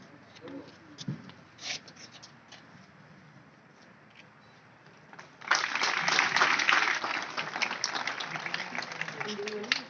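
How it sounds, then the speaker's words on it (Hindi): An audience welcomes a guest, the Anti Corruption Committee of India state president, with applause at a Sonebhadra traffic awareness event. Near-silence with a few scattered sounds gives way midway to dense, fairly loud clapping that carries on to the end. "जोरदार तालियों से आप लोग स्वागत करें।"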